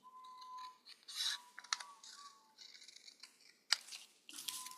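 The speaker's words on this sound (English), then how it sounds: "Cut out the sign." Scissors snip through paper while a Halloween sign is cut out, giving a string of short, crisp cuts with brief pauses between them, close and fairly quiet with no talk.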